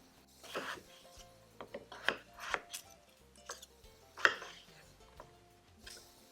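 Cut potato fries go into a bowl, making a quiet series of scattered clatters and rubbing knocks against the bowl, irregular and close, over soft background music.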